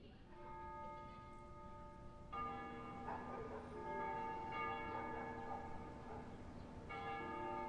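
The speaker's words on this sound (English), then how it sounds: "They ring the bells here at dusk to honor the liberation of the capital." Church bells ring at dusk in the video game Ace Combat Zero to honor the liberation of the capital. Sustained, overlapping tolling rings steadily throughout, with fresh strikes layering in every couple of seconds and no voices.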